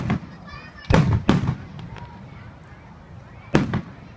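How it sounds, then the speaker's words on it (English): Outdoor fireworks bursting in three sharp, loud explosions spaced a few seconds apart, each with a short crackling tail, over low background rumble and faint voices. "Well, the fireworks aren't over."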